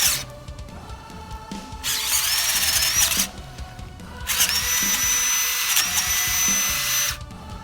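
A power drill running during work on a four-link front suspension for a K5 Blazer, whining in loud bursts that stop and restart with short pauses, close and with no talk over it.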